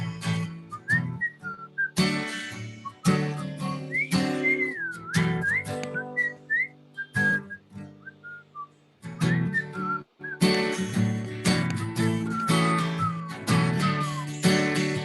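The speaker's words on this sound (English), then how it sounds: "Whistle with me, everybody." A lone melodic whistle wanders up and down over a steady instrumental backing, phrase after phrase, loud and close.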